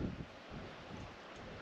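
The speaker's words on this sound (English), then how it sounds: "It's still windy." Wind gusts across an Ontario fishing lake, a low, rumbling buffet against the microphone that holds steady throughout the short stretch.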